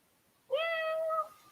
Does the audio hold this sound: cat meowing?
yes